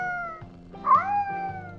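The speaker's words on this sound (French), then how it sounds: "Le chat fait un bruit des enfers." A cat lets out a loud, drawn-out yowl that rises and bends in pitch, a single close call heard alone without talking.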